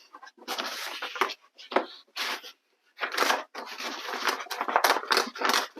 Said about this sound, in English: Then I'm going to just cut their bias tape off there, just right along that.